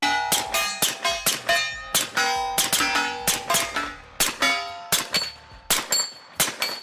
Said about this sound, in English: listen to the sound with the suppressor on, it literally sounds like what you would hear out of a fucking movie suppressor